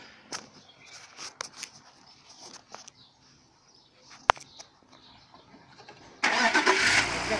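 A BMW E46 325i with a misfire has its engine started after a coil replacement: quiet clicks and faint activity, then the motor catches abruptly and settles into a steady, loud idle nearby.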